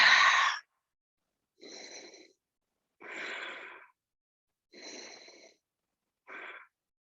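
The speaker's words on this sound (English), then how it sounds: "Make your breaths loud. You can sigh it out if you want." A person in a yoga goddess pose breathes out loudly, giving five separate breathy exhales or sighs spaced about a second and a half apart, close and clear with no talking.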